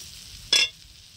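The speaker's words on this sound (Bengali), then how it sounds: "করে আমি খুন্তি দিয়ে নাড়াচাড়া করে মশলাটা ভালো করে এর সঙ্গে মিশিয়ে নেব।" A spatula scrapes once through fried karamcha pickle and spices in a pan, a single short, bright scrape set against a faint low sizzle.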